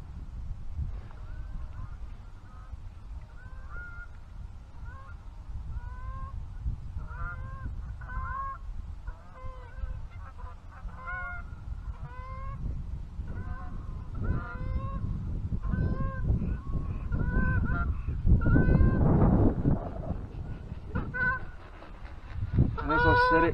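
A flock of geese passes over a flooded river, honking in a steady stream of calls. The sound grows louder as they come closer, over a low wash of wind and water, and a voice speaks briefly underneath.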